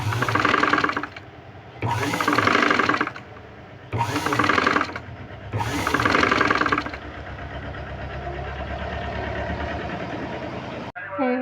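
Sewing machine stitching a boat neck blouse, running in four loud bursts of roughly a second each with short pauses between, then a longer, softer steady run to the end.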